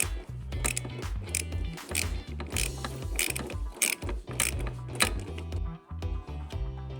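A hand ratchet on a swivel loosens the bolts holding a Ford Bronco spare tire, giving quick, bright clicking bursts in an uneven rhythm with short pauses between strokes, close and clear.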